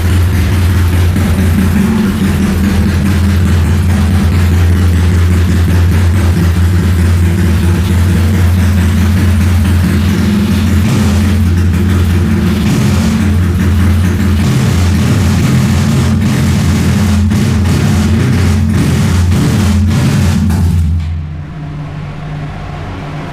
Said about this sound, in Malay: Motornya dah hidup.